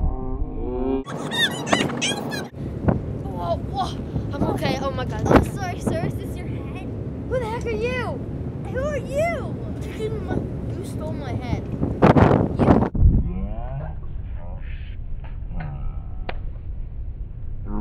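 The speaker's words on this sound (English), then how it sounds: "It's getting really windy." Strong wind buffeting a small boat at sea with waves, steady rushing roar and microphone gusting throughout, mixed with squeaks and creaks and bursts of excited voices over the wind.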